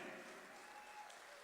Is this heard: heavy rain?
no